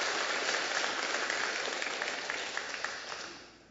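Congregation applauding during a Sunday morning church service: a dense, even wash of many hands clapping that holds steady and then slowly fades toward the end.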